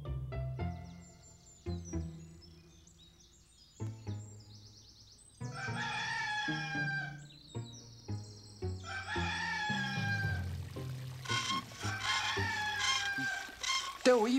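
A cartoon rooster crows in a long, bright cock-a-doodle-doo amid clucking fowl and lively animated-show music and effects, with character voices speaking around it.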